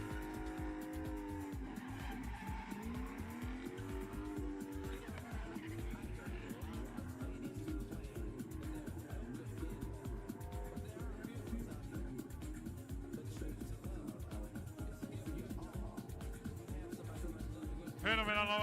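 A roughly 300-horsepower drift car competes at the CDC Mičevec 2025 drifting event, its engine revving hard and its tires squealing continuously throughout, with a commentator talking over the noise.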